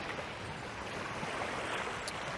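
Rough water washes against the Jacksonville shore, making a steady, broad rushing roar with no clear pauses and wind mixed in.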